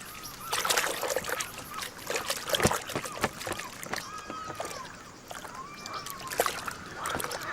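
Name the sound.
white-tailed eagle bathing in water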